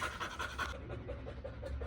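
A German Shepherd dog pants in quick, steady rhythmic breaths close by, soft and continuous throughout the short moment with no voices.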